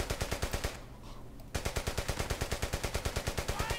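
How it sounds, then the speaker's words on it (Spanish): Loud, rhythmic machine-gun bursts in the World War II shooter Brothers in Arms: Hell's Highway, a fast regular stream of shots that pauses for about a second and then resumes. "¡Sigue disparando!"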